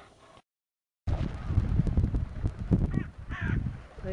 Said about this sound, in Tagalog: Ayan, ang mga kalapate.